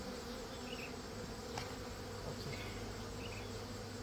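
Wild cavity-nesting bees buzz around a nest box, a faint, steady insect hum with a few brief passes close by, low in level and without talking.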